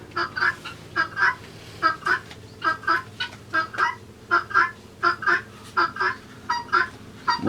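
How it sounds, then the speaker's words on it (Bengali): Ducks quack repeatedly in short bursts nearby in a duck house, a steady rhythm of honking calls over a low background hum. "এটা আমার হাঁসের ঘর এখানে হাঁস থাকে"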